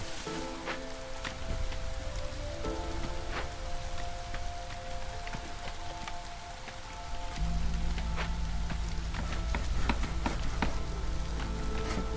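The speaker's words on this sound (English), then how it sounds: "And so it's drizzling right now, right?" Drizzling rain in the city-building video game Against the Storm, a soft continuous patter with scattered drop clicks under low sustained tones.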